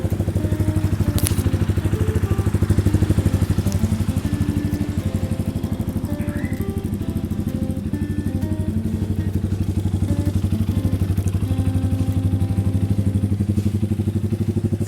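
A 2018 GPX Legend 200 motorcycle idles steadily with a constant low engine hum and faint mechanical clatter, running close and alone for the whole stretch.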